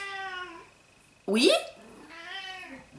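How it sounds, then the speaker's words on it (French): A pet cat meows indoors, two drawn-out mews separated by a brief spoken word from a woman, fairly close and clear against a quiet room. "Mon chat a l'habitude de miauler quand je fais une vidéo"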